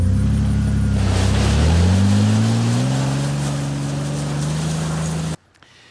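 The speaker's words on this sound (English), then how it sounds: "I'm going to drive right over here by Harry's truck and get in a little spot to" Jeep TJ driving through a dry creek bed, its engine droning loud and close with a rising pitch as it pulls ahead, then cutting off abruptly near the end.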